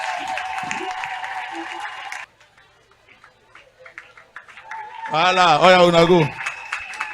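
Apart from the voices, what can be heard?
congregation applauding for the Lord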